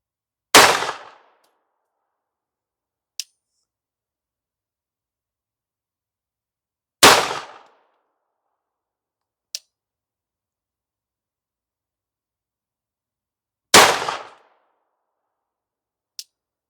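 A Glock 17L 9mm pistol fires at steel targets, with three sharp, loud shots spaced several seconds apart, each followed about two seconds later by a faint, distant metallic ping of a round striking steel.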